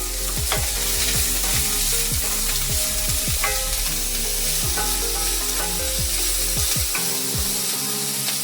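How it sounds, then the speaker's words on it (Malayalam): Onion with a pinch of salt sautéing in a pan for beef stew: a loud, continuous sizzle broken by repeated scraping stirs of a spatula, with no talking. "ഇനി ഉള്ളി ഒന്ന് വഴണ്ട് വരട്ടെ"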